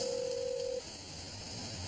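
A telephone call is dialed and rings: a steady, loud electronic tone holds for under a second, then cuts off and leaves faint line hiss.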